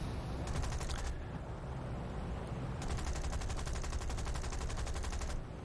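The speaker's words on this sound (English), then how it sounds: "Don't know where those tail gunners are firing" Aircraft tail gunners fire machine guns in the War Thunder flight game, two long rapid bursts of steady automatic fire over a continuous engine roar, the first brief and the second lasting several seconds.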